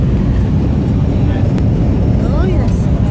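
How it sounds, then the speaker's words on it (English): Steady broadband engine roar inside the passenger cabin of a Jetstar airliner in flight, a constant loud drone filling the whole clip with no break. "We're on the plane."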